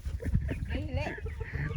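A large rooster and hens cluck in a provincial Philippine yard, with short low clucks and a warbling call close by under a steady outdoor background.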